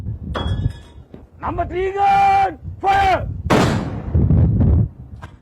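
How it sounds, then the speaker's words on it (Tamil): A Sri Lanka Navy ceremonial gun salute fired from the ship Sayura during an Independence Day celebration, heavy booms ringing out under shouted commands and announcer speech, loud with an outdoor echo. "இலங்கை கடற்படையின் பாரம்பரிய முறையிலான மரியாதை வேட்டுக்களை தீர்க்கும் சம்பிரதாயம் சயூர கப்பலிலிருந்து முன்னெடுக்கப்பட்டது"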